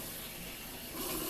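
Cold tap water runs steadily into a sink while pasta salad is prepared, a continuous close rush of water that grows slightly louder near the end, with no talking.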